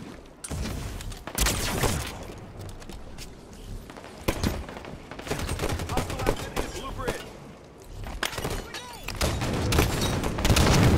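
Gunfire in a video game: rapid bursts of shots and sharp cracks come in clusters, loud and close, with brief lulls between volleys.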